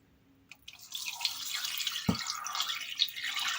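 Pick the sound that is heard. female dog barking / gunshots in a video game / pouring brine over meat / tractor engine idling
pouring brine over meat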